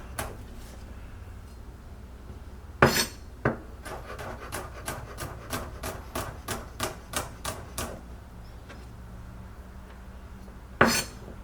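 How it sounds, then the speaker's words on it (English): Garlic cloves chopped with a knife on a board: a fast, even run of about a dozen sharp, close taps after a few scattered strikes, with no talking. "What I like to do is give them a little chop"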